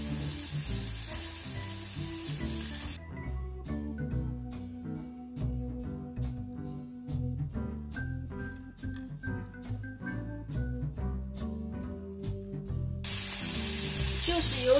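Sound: pork belly frying in a pan

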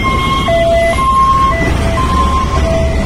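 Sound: ambulance siren

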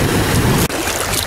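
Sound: sea waves at the shore in Rostock, Germany

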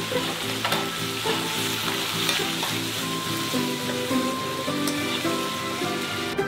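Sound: stir-frying chopped chili with scallion, garlic and soy sauce

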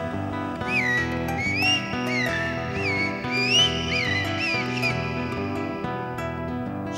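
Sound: zorzal (thrush) singing

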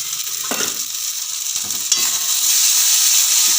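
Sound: sautéing broccoli curry in pan

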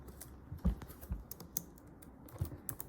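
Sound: typing on a computer keyboard

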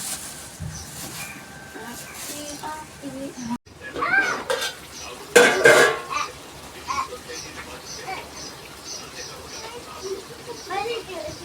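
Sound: gongura chicken curry cooking and being stirred in pot

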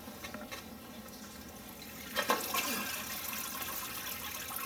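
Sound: water draining from aquarium sump

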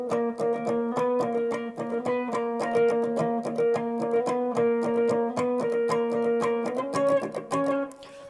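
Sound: electric guitar lead part of Nadie Como Tu chorus

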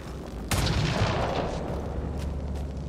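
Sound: gunshot at fuel cell in video game Mass Effect: Andromeda

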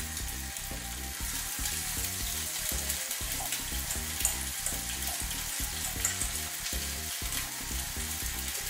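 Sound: milk-dipped coated fish nuggets frying in the pan

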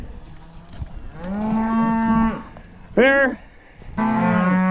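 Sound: cattle mooing on a farm

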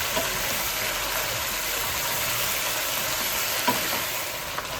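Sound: onions frying and being stirred in pan

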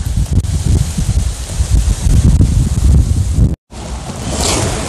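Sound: strong wind blowing, wind noise on microphone

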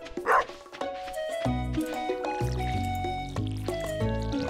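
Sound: dog barking in the video game Stardew Valley

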